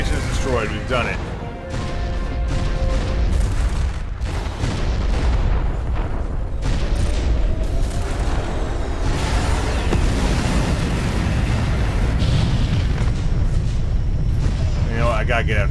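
Rumbling explosions and booming blasts from a space combat video game as Corinth Station is destroyed, a dense, continuous roar of detonations filling the scene, with game voice chatter mixed in.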